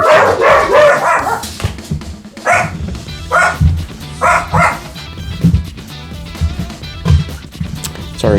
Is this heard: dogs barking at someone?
yes